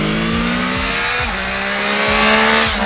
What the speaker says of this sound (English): This is like a live concert on two wheels. This inline triple is such an entertainer.